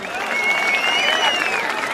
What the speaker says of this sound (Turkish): Daha kuvvetli bir alkış istiyorum.